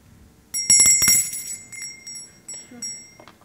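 A bell rings out in a quick burst of bright metallic strikes, ringing on with a shimmering tail and a few softer taps afterward, close and fairly loud.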